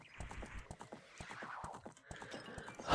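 A horse trots in Zelda Ocarina of Time 3D, with steady clip-clop hoofbeats throughout and a short whinny, game sounds with no talk over them.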